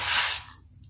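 Half a tumbler of water goes onto jaggery for pumpkin halwa in a short, loud, splashy gush that quickly drops away to quiet.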